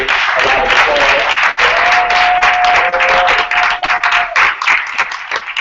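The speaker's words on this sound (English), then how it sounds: "please give Marvell Terry a round of applause" An audience at a symposium town hall bursts into dense, sustained applause that stays loud and steady for several seconds before thinning at the end.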